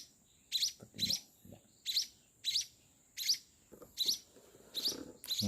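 Week-old munia chicks chirp while being hand-fed, a series of about nine shrill, close begging peeps in a steady rhythm, with faint soft handling noises underneath.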